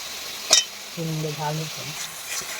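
Ginger, chilli and cumin paste hits the hot pan with cooking figs, giving a sharp initial crackle, then a quieter sizzle with stirring and a brief tonal hum midway.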